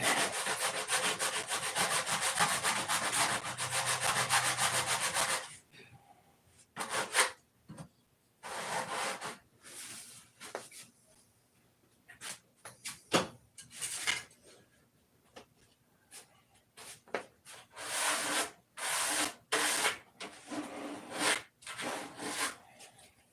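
Fine 2000-grit sandpaper rubs across a surface, first in one long steady stretch, then in short repeated strokes of varying strength with quiet gaps between them.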